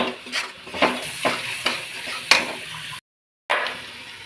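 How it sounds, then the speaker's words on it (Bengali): Spice masala with turmeric powder being stirred and fried in a pan, spoon scrapes and clinks over a low sizzle, about six distinct strokes, then a brief cut to silence before stirring resumes. "মশলাটাকে ভালো করে কষাবো দিয়ে একটু নাড়াচাড়া করতে হবে মশলাটাকে মেশাতে হবে একসঙ্গে"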